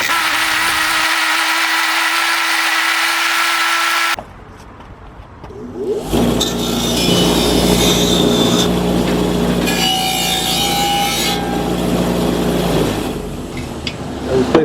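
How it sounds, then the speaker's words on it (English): Bench wire wheel scrubbing corrosion off parts of a Coleman 426D three-burner white gas camp stove: a loud steady motor whine, a pause, then a harsh scraping grind that holds for about eight seconds with no talk. "These two are going to see the wire wheel now."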